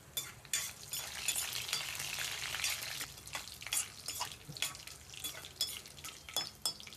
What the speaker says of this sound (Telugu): అందులో ఒక 4-5 వెల్లుల్లి రెమ్మలు, అలాగే ఆవాలు, జీరా, అదే విధంగా ఒక 2 ఎండుమిరపకాయలు వేసుకొని ఇవి చక్కగా వేపేసుకుందామండి.